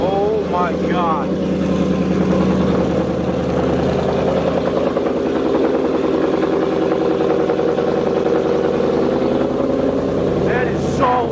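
Close, loud, steady burbling idle from a Ford Mustang GT 5.0 Coyote V8 with an off-road H pipe exhaust, holding an even rumble throughout with brief voices over it.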